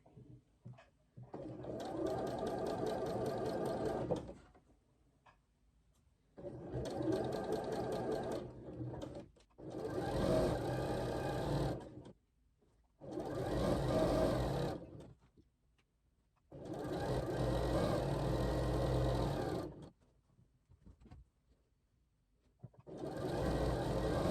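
A sewing machine stitches quilt fabric strip sets in six loud, steady bursts, each a few seconds long, separated by short quiet pauses while the fabric is repositioned.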